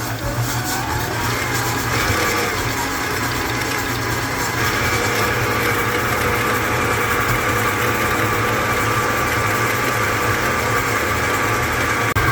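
An electric mixer creams butter and sugar for lemon pound cake batter at medium speed, a loud constant motor whir with a faint rattle of beaters in the bowl, unbroken throughout.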